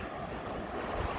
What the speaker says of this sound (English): That's the Atlantic Ocean.